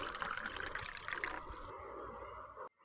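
Hot water pours steadily into a bowl of poori flour dough, a continuous close splashing trickle that thins to a lighter stream before stopping abruptly near the end.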